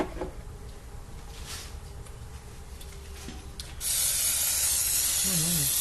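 Aerosol brake cleaner sprays onto Subaru engine parts in a garage. Faint handling noises come first, then a loud, steady, close spray hiss starts about two-thirds of the way through and continues to the end.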